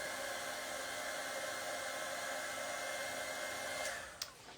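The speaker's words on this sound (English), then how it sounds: "let's grab the heat tool. And again, we'll let it heat up" Heat embossing tool whirring steadily as it warms up for melting embossing powder on a gold Christmas card, an even airy blower drone that cuts off near the end.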